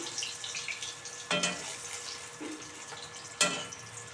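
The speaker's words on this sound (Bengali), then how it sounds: "ভালো করে ভেজে নিয়ে নিই" Tangra fish frying in oil in a home kitchen gives a soft, steady sizzle, faint and close, broken by a couple of louder bursts of spatter or stirring.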